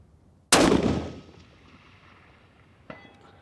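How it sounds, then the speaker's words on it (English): A precision rifle fires a single loud shot at an outdoor range, its sharp blast decaying over about half a second, followed by a faint distant report or impact moments later. "One more shot just for fun."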